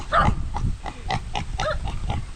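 Native pigs grunt in a run of short, rough bursts spaced through the whole stretch, close and fairly loud, with no talking over them.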